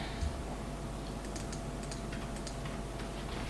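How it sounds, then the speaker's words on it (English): Computer keyboard typing during programming work: a light, fast run of key clicks sitting under a steady broadband hiss, with no talking. "I wish I could type properly."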